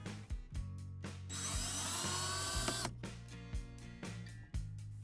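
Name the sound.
unscrewing a Phillips screw from a W124 sun visor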